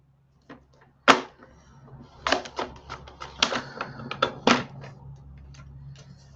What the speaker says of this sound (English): So you can see basically we're just cutting these corners off.